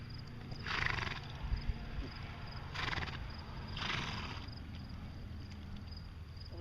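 Draft horses on a farm in western Nebraska give three drawn-out neighs or whinnies against a steady outdoor background hum, with a few faint hoof thuds between them.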